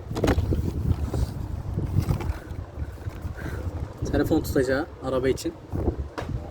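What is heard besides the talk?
wind blowing into microphone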